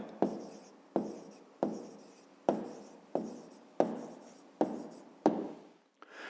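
Pen or pencil writing out a math answer on paper, about eight short scratchy strokes repeating at a steady rhythm, close and quiet with no voices.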